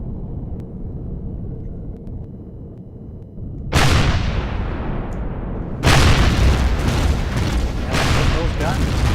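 Ship-mounted guns firing in the space survival game Empyrion Galactic Survival: two sudden loud bursts of booming gunfire cut in over a low engine hum, each sustained as a dense roar of rapid shots.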